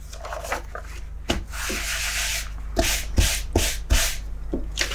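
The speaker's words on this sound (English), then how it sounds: "This is a sandpaper block. And just sand just the edges ever so slightly." A sandpaper block rubbed over the edges of tea-dyed junk journal paper, giving close, repeated scratchy sanding strokes with short pauses between passes.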